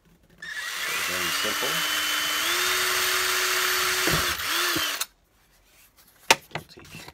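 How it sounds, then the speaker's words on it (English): A small drill bit bores holes into a fence jig for a Proxxon hot wire table, giving a loud, steady whine of about four seconds with the pitch shifting, followed by a few sharp clicks and brief speech. "Taking the small drill bit, we're gonna poke four holes in the center of where we want to go."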